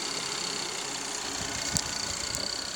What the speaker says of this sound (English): the engine itself sounds good so far as I can tell